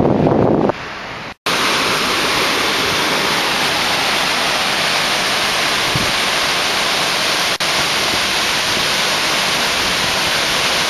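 Cumberland Falls in Kentucky roars as a loud, steady wash of falling water heard from close by, continuous throughout apart from a brief dip near the start.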